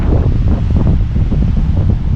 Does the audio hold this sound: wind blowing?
yes